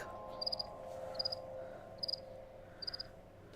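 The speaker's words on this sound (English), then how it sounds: "yeah, the cricket gets loud" Crickets chirp in the Barrow Hill game's night ambience, four short pulsed trills spaced about a second apart over a faint steady background hum, nobody talking.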